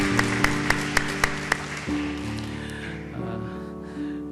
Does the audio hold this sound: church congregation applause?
yes